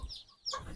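Native chicken chicks on a small farm give short, high-pitched cheeping calls, one faint burst at the start and a clearer, louder flurry in the second half, with no talk.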